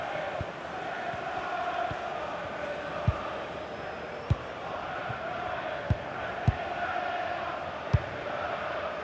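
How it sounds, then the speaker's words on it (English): A stadium crowd in the EA FC 26 football video game keeps up a steady mid-level roar with a few sharp thumps, under a commentator's voice. "The crowd is certainly trying to help get their team back into this."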